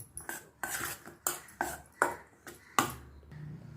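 Ground chana dal being mixed by hand with cardamom and grated coconut in a metal vessel, a series of sharp clinks and scrapes about every half second, close and fairly loud, with no talking.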